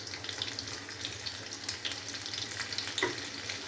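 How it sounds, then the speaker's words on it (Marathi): Garlic frying in hot oil gives a quiet, continuous sizzle with faint crackles and a light stirring clatter near the end. "तेल चांगलं तापले. लसूण टाकून घेऊया."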